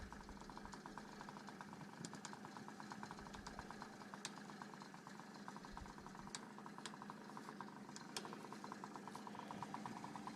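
A 1982 Honda NU50 Urban Express scooter idles steadily nearby, a continuous low engine drone with faint ticking and occasional light clinks on top, no talking.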